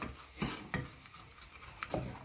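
A wooden spoon stirs melted butter and flour in a pan over low heat, giving a few soft scraping strokes with light clinks against the pan, close and quiet, with no talking.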